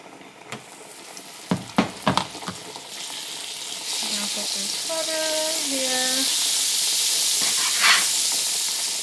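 Shrimp fry in butter in a pan with a steady, rising sizzle, broken early by a few sharp clinks and knocks of utensils against cookware, while a voice speaks briefly partway through.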